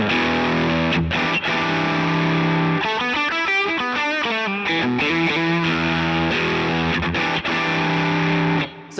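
Electric guitar played through a Dr. Z M12 amp set just at the edge of breakup with a Walrus Audio drive pedal, sustained chords and a fast run of picked notes in the middle, loud and close throughout.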